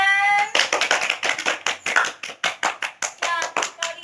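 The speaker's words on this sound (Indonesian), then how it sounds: "Beri tepuk tangan." Schoolchildren in a classroom clap their hands in a rhythmic series of distinct claps, close and fairly loud, following a brief voice at the start.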